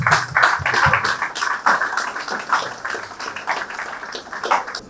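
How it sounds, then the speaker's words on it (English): A small audience at a corporate company session for a student research challenge gives a round of applause. Irregular, moderately loud hand claps patter for several seconds with no talking. "Round of applause,"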